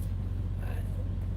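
Steady low engine drone and road rumble from a semi truck cruising on the highway at 65 mph, continuous and close, with a driver's voice over it.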